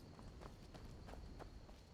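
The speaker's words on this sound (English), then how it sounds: "A horse." Horse hooves clopping in Skyrim: a few quiet, evenly spaced hoofbeats at a walking pace, faint and close, with no talk.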